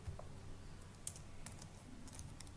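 Someone types an IP address on a computer keyboard, producing a faint, sparse patter of soft key clicks in a quiet room.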